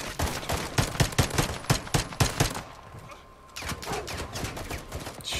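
Rapid, loud gunfire from the Modern Warfare 2 campaign cracks out in quick repeated bursts, then drops into a brief lull before steadier battle noise returns.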